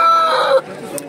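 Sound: rooster crowing at a poultry market

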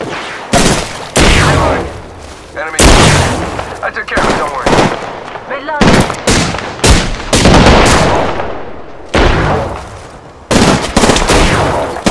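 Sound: gunfire in the video game Apex Legends

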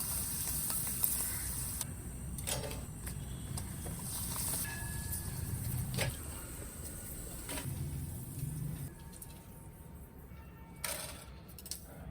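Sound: frying appalam (papad) in oil

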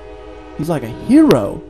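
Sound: train horn in the background

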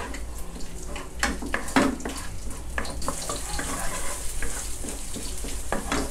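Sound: stir-frying red curry paste with chicken in a pan

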